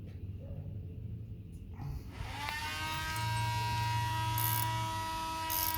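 A bolt thread spinning during installation of a Whiteline anti-roll bar on a car gives a steady mechanical buzzing whine. It starts after a quieter stretch and holds for several seconds, close and moderately loud, with no voices.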